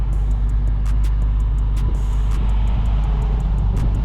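Deep, steady rumble of a Dodge Hellcat Widebody's engine and exhaust, a loud continuous low drone with a faint rhythmic ticking above it, unbroken and close for a few seconds.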